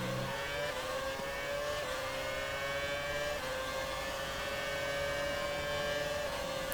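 A 2006 Renault F1 car in the F1 2019 racing game screams down a straight, its high engine note climbing steadily through the gears with brief dips at each upshift, loud and continuous.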